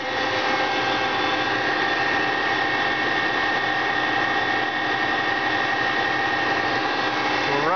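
A bench tester spinning a 200 amp alternator at about 700 RPM idle gives off a steady, even mechanical whine and hum, close and constant throughout.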